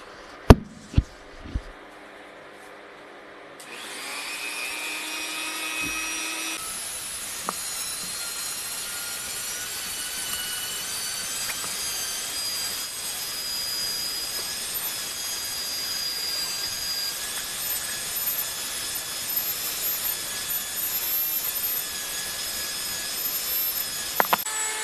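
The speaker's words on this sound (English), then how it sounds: "I'm gonna hit it with the Dremel wire brush just to clean it up" A Dremel rotary tool fitted with a wire brush scrubs a cracked carburetor bowl from a Yamaha XV920, a steady high-pitched grinding whine that starts after a few seconds of quiet handling noises and continues unbroken, loud and close.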